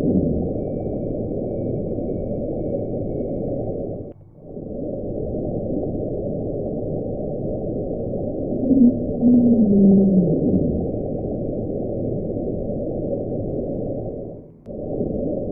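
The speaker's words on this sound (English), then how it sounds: "a loud sound recorded by stations across the Pacific and by the NOAA in 1999" An underwater acoustic anomaly recorded by NOAA hydrophones across the Pacific in 1999, between Cape Adare and the Bransfield Strait, a dense, sustained low rumbling roar with a brief rising tonal sweep partway through, heard alone.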